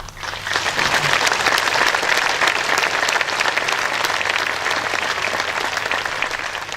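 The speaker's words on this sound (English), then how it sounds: "he really deserves a round of applause for that" Loud, sustained applause from a large crowd at the Lake Tahoe Summit, dense clapping that continues steadily throughout without any talking.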